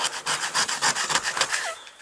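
A boat hull is sanded by hand with a rolled-up piece of old sanding belt, giving close, loud, rhythmic rasping strokes in quick succession that stop near the end.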